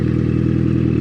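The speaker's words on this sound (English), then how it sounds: "the exhaust, obviously, with the sound of it, it's muffled, meaning there's baffles in those F1 mufflers" A Yamaha Maxim X motorcycle runs with a deep, even exhaust rumble muffled by baffles in its mufflers, close and steady with no change in pitch.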